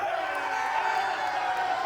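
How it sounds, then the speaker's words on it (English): A wrestling crowd cheers for Jake Carter during his match against Brian Pillman II, a steady wash of arena noise and approval that holds even throughout, with a commentator's voice running over it. "Crowd showing more approval for Jake Carter."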